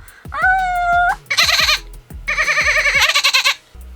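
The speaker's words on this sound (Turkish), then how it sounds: "Evet keçimiz geliyor." A goat bleats loudly and close several times, long wavering cries with pulsing vibrato separated by short pauses, with low background rumble beneath.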